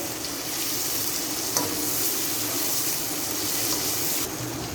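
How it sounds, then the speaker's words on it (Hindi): Chopped tomatoes with garlic frying in a pan, a steady loud sizzle with faint stirring, continuous throughout and without any talking. "अब मैं इसके अंदर टमाटर डाल दूँगी और टमाटर को भी हम 1 मिनट के लिए अच्छे से कर लेते हैं फ्राई"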